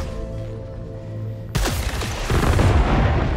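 A quiet hum gives way to a sudden loud burst of alternate weapon fire in Returnal, followed by heavier, sustained blasts that carry on to the end.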